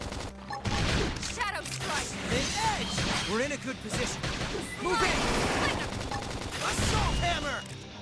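Gunfire rattles in a mech video game played on Wii U, fusillade bursts mixed with whooshing effects and a busy, loud battle backdrop, with voices talking over it.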